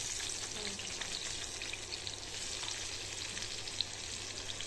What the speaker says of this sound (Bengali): এখন ওই তেলের মধ্যেই আমি ওই কেটে রাখা ক্যাপসিকামগুলোকে একটু হালকা করে ফ্রাই করে নেব।